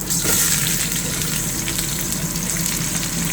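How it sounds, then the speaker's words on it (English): Onion tossed into hot oil in a pan, sizzling and crackling steadily and loudly at close range for the whole stretch, with no voices. "After we pour that oil, we're gonna throw the onion"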